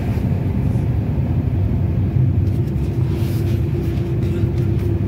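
A car in second gear pulling away as the clutch is slowly released, a steady low engine rumble with road and cabin noise, close and even throughout.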